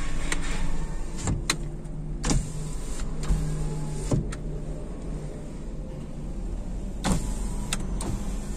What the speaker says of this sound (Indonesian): Untuk power window kita tes.